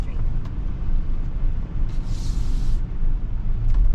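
A 2018 GMC Yukon XL SUV on a test drive makes a steady, loud low rumble of road and engine noise inside the cabin, with no break.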